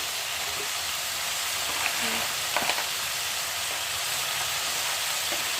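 Fish head frying with wilted spinach in a pan, giving a steady, close sizzling hiss throughout, broken by a few brief scraping stirs.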